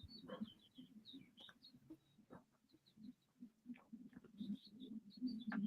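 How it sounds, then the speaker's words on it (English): Faint birds chirp outdoors, short high calls scattered irregularly over a low background murmur, fairly distant. "I hear birds outside."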